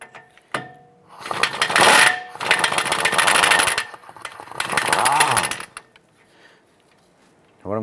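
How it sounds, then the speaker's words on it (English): A 17mm socket on a ratchet or impact loosens the outer tie rod nut on a 2009-2015 Honda Pilot front end, giving several loud, rough bursts of mechanical whirring and clatter, close up, with no talk. "Using a 17mm socket, we're going to go ahead and loosen the nut on our outer tie rod."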